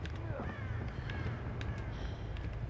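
Crows cawing in the Dead by Daylight horror video game, with repeated harsh calls over a steady, dense ambient bed.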